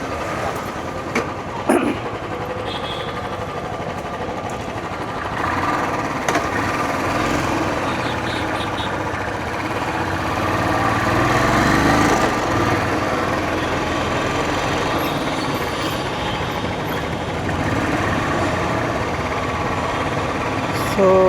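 A Royal Enfield motorcycle that has covered about 100,000 km runs steadily on a trial ride, giving a continuous rumbling engine drone with broadband road and wind noise that swells slightly midway through.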